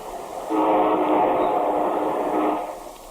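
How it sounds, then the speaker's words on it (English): A diesel locomotive passes with a loud, sustained two-tone horn blast that swells in after half a second, holds steady for about two seconds, then fades, with rumbling train noise underneath and no talk. "That's the voice of a diesel locomotive, to most of us a symbol of modern railroading."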